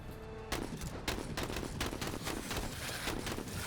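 Rapid bursts of gunfire in the strategy game Menace, dense overlapping shots and fusillades that start sharply and keep up loudly throughout, with no talking.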